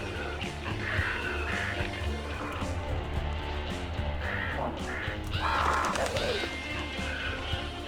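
Crow cawing in the WolfQuest video game, several harsh calls spread across a steady background of game ambience and music.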